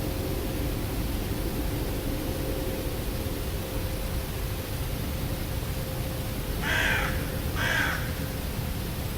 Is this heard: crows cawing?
yes